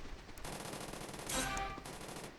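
Rapid automatic gunfire in the battle royale game Free Fire, a sustained burst of shots that swells louder midway before easing back, with no talking over it.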